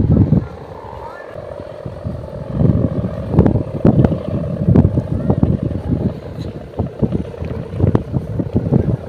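Strong wind buffets the microphone outdoors in a rough, gusting roar with irregular bursts and thumps, while voices talk faintly underneath.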